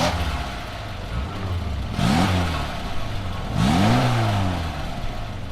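A pristine, low-mileage Fiat X1/9 mid-engine sports car rumbles steadily on the move, then revs up hard twice in clear rising surges before easing back, close and loud with no talking.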